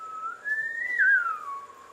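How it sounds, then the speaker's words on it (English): A woman whistles a little tune, one clear sustained note that rises, wavers at its peak and slides back down, alone and fairly close against a quiet room. "She is whistling a little tune."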